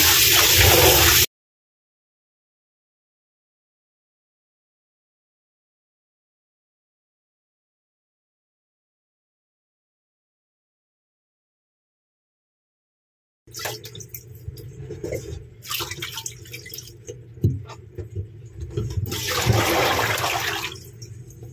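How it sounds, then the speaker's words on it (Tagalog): Water sloshes and splashes as guso seaweed is washed and kneaded by hand, a short burst, then a long silence, then several seconds of busy, close squishing and rinsing. "hugasan lang natin siya hanggang sa matanggal po yung kanyang dumi. Lamas-lamasin po natin."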